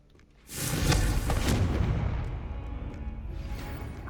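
A Confringo spell in Hogwarts Legacy detonates in a deep booming blast with a whooshing burst, loud and close, then a rumbling tail that slowly fades over several seconds before a faint click.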